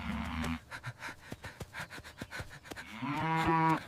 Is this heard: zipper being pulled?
no